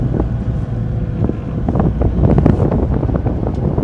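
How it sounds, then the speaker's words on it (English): Yamaha outboard boat engines maneuvering under Helm Master joystick control give a steady, close rumbling drone, mixed with gusty wind noise on the microphone. "look at those engines just doing their thing"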